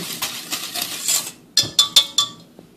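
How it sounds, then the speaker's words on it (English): A spoon stirring meringue powder mixture in a bowl, with soft scraping strokes followed by four sharp, bright clinks against the bowl's rim, close and clear with nothing else heard. "Now I'm going to stir this meringue powder mixture one more time"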